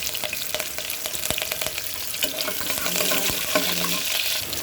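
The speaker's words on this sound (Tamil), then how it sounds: "பொரியிற சவுண்டே ஒரு தனி" Spices crackling in hot oil for sambar, a loud dense sizzle with scattered pops and clicks that swells slightly toward the end, with no voice.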